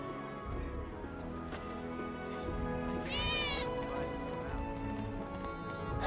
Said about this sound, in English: Okay, I can see a cat. Did you hear that?